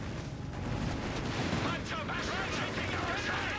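Tank cannon and gunfire in a World War-style tank video game, a dense rumbling barrage of shots and impacts running continuously through the clip, fairly loud and close.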